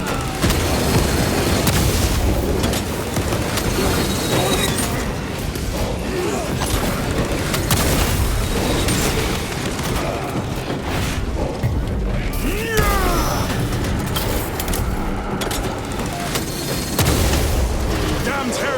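A frag grenade explodes in Warhammer 40,000: Space Marine 2 amid loud, continuous battle noise of booms, gunfire and crashes, with voices shouting throughout.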